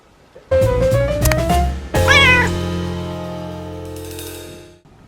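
Two cats meow loudly and repeatedly at close range, with drawn-out, rising calls in a quiet indoor room.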